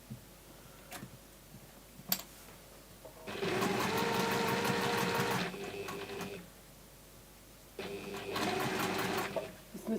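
A sewing machine runs in two bursts in a craft workshop, steady mechanical whirring with fast ticking, loud and close, separated by a quieter pause with a few clicks.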